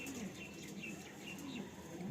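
A domestic flying pigeon coos faintly in a quiet loft setting, soft repeated low calls with light chirps from other birds in the background, no talk.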